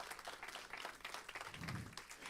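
A church congregation claps in gratitude, with dense, faint applause from many hands spread evenly through the room.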